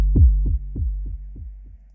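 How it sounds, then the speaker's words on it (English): A low synth pulse thumps in a steady heartbeat-like rhythm, each beat trailing off in a reverberant echo, fading gradually over seven beats. "I added some delay and some reverb so that it sounds like a heartbeat."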